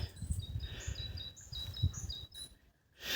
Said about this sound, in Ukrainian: Прийшла додому і так пташка вона сидить, співає на дереві.